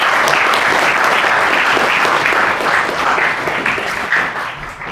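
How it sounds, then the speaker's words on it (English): A steady, full round of audience applause at a poetry gathering, dense and close, holding loud for the whole stretch before easing slightly at the end. "Round of applause again for them."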